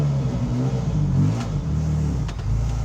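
A 1995 Ferrari F355 Challenge factory race car engine revs steadily and loudly up close, a sustained high-revving mechanical drone with slight dips in pitch, no voices.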